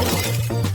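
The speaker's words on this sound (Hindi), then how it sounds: "लेकिन मेरा फोन टूट गया।" A brief sharp crack of a dropped phone shattering, quick and close, lasting under a second.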